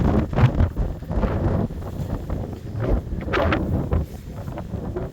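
Strong wind buffets the microphone on a rocky tor, a loud, steady roar with gusty surges and rumbling low-end noise throughout.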